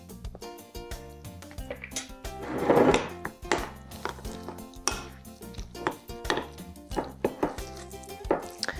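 Falafel dough with baking powder being stirred and mashed in a bowl, giving repeated soft knocking and squishing scrapes in an uneven rhythm, close and fairly loud with no talking.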